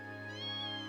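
A single short cat meow from the video game Trails of Cold Steel, a faint tonal cry over a soft humming game background.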